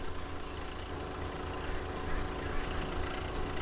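Tractor engine idling in Farming Simulator 19, a steady low rumble that runs continuously at moderate level with no clear changes.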